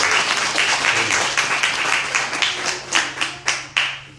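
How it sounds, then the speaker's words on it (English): Audience applause for Greta at an artist talk, broad steady clapping from a room of people that thins toward the end into a few separate loud claps. "can we give Greta a round of applause, please?"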